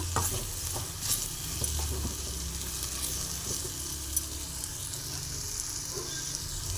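Vangi bath spice powder stirred with capsicum in a frying pan, a steady soft sizzle of frying with repeated scraping strokes of a spoon against the pan, close and without talk.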